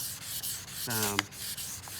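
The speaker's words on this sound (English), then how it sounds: "I'm just gonna start sanding away." Steady wet rubbing of fine sandpaper on a Toyota Tacoma headlight, a continuous close scratchy hiss with a brief squeak partway through.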